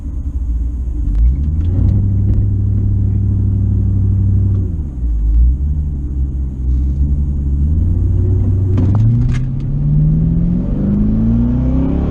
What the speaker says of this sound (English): I've got a chick in a Vette that sounds like it's got a cam and some drag radials on it